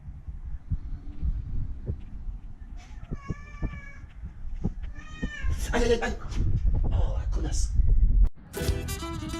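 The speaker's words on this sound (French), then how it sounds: "Puis je fais la rencontre de son chat." A cat meows several times close by, drawn-out plaintive calls amid rustling and handling noise, ending in a louder, higher cry.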